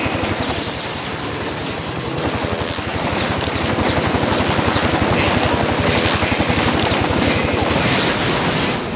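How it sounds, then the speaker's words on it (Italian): A helicopter being destroyed in the video game InFamous 2: a loud, dense rattle of rapid gunfire-like bursts with throbbing rotor pulses runs steadily for the whole stretch, with no talking. "E l'elicottero è andato."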